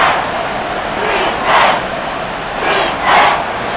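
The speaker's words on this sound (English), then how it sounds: "the crowd getting into it as we come up on a big 3rd down" Football stadium crowd at an NFL game between the Green Bay Packers and Carolina Panthers, cheering as a steady loud roar that swells twice into brief louder bursts, with no talk over it.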